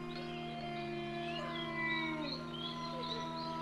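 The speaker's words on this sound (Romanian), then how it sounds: "Se aude, bă, lupii!" Wolves howling in a farm-life hunting video game: several overlapping, sustained, wavering howls, fairly faint and steady throughout with no talk.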